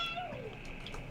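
Faint cat meow, a short falling cry, heard in a quiet indoor setting with little else around it.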